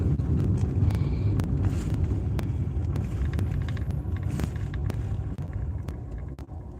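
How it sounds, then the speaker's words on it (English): Steady low rumble of truck traffic from a nearby highway, heard close through wind buffeting on the microphone, with occasional sharp ticks and knocks over the drone. "you're gonna hear all the truck noise coming off this highway still"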